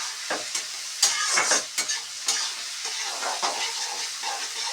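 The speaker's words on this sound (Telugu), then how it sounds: "మిరియాలు లవంగాలు దాల్చిన చెక్క వేసుకోవాలి బాగా కలుపుకోవాలి దీన్ని" Whole pepper, cloves and cinnamon sizzle in hot oil as a spoon stirs them in a pan for egg curry, with close scraping strokes over a steady frying hiss.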